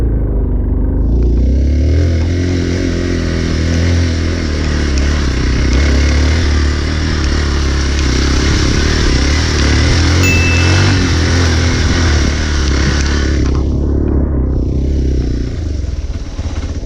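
A motorcycle carrying a rider and a passenger on a ride toward the Rani Jhari viewpoint near Kudremukha. Its engine drones loud and steady for the whole ride, with a brief rattle and clatter over rough ground and a short lull near the end.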